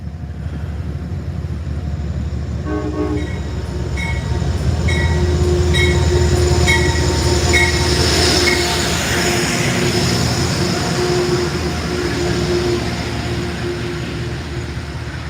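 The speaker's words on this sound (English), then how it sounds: "Yeah, an actual train." An MTA commuter train rolls past during sleet, a loud continuous rumble of wheels on rails with high metallic squeals and clanking rising and fading, close by and steady for the whole stretch.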